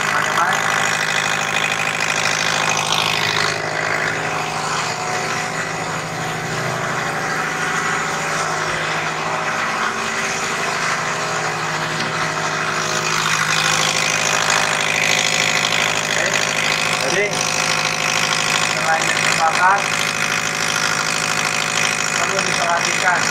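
A steady, rumbling diesel engine of a Mitsubishi Canter truck idles continuously at close range during fuel injection pump calibration, its tone holding even with a slight rise in intensity partway through.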